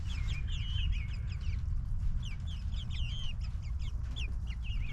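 Chickens cluck and chirp busily in a poultry run over a steady low rumble, several birds calling at once in quick overlapping bursts throughout.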